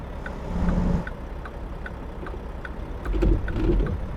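Mack truck in American Truck Simulator, a low engine rumble with steady ticking clicks, swelling twice as it drives, moderately loud with no talk.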